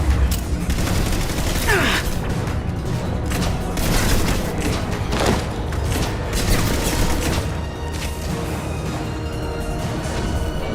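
Dense gunfire and booming blasts from the Mass Effect Legendary Edition Shadow Broker battle crackle continuously, loud and overlapping with sharp impacts, a near-constant barrage without pause.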